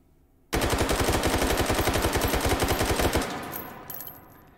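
An AK-12 rifle fitted with a muzzle brake fires in the video game H3VR: one loud, rapid full-auto burst of closely spaced shots lasting nearly three seconds, then a fading echo tail.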